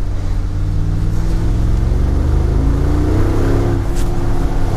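A deep V8 engine in a 2019 Mercedes-Benz G63 AMG rumbles loudly and continuously, its pitch climbing as it revs up, heard close from inside the vehicle.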